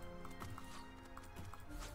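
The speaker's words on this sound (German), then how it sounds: "das Pferd kann sogar hier über die Steine rüberreiten" Horse hooves clip-clop in a steady, fairly loud rhythm as the mount is ridden over stones in the fantasy MMO Fractured, with no talk over them.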